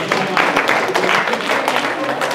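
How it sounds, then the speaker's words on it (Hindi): A class of students claps for a classmate during an anatomy lesson, a brief dense burst of many hands at close range that continues steadily, with some voices mixed in. "ताली बजा दो इनके लिए सब"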